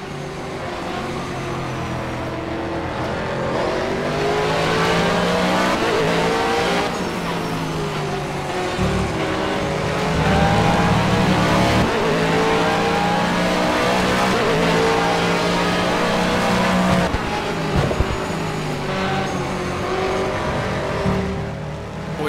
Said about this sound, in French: On vous invite à profiter de ce moteur Ferrari et surtout de monter le son